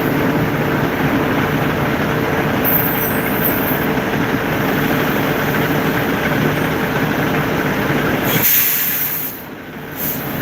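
A truck passes on the road with a loud, steady engine rumble and road roar that holds for several seconds, then drops away sharply near the end.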